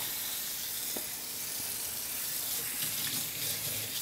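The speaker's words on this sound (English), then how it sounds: "turn my water on and I'm going to rinse the eggplant real fast" A kitchen faucet runs steadily over eggplant being rinsed, a broad continuous hiss of flowing water with faint splashes, close and moderately loud, without any voices.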